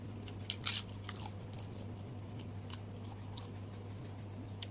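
Close, quiet chewing of blue crab papaya salad, with sharp crunchy bites in a short burst near the start, then softer intermittent crunches and mouth sounds over a steady low hum.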